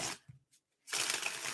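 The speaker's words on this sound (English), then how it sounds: "After this shuffle, we're gonna start it." A deck of tarot cards is shuffled in a quick riffle, with a short burst, a pause, then a longer close rustling run.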